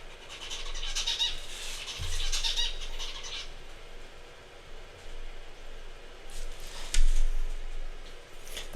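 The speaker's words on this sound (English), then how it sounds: "That bird's probably asking what am I doing?" A bird calls in short chirping bursts early on, then flaps its wings in a brief flurry later, heard outdoors over a steady low background rumble.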